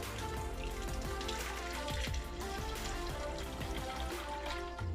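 Turmeric, ginger and lemon juice runs through a kitchen strainer in a steady liquid patter and trickle, close and fairly quiet, with no talking.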